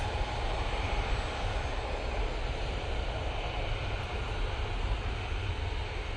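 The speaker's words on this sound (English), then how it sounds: "Now on the roll, off to Rias using the 737 MAX 8 for this flight." A Ryanair Boeing 737 MAX 8 takes off at Manchester Airport, heard as a steady, distant roar of jet engines that holds constant, with no talk.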